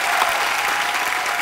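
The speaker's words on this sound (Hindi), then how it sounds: "Jasmine के लिए जोरदार तालियां।" Loud, dense studio audience applause on a comedy talk show, a continuous close roar of many hands clapping with no talk over it.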